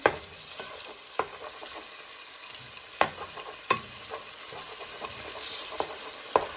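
Pork pieces fry and sizzle steadily in a pan, broken up and stirred with a utensil that gives sharp scraping knocks every second or so, close and clear with no voices.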